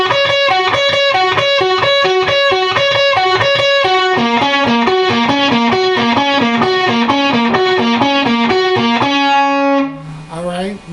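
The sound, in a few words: electric guitar playing fast lick from a song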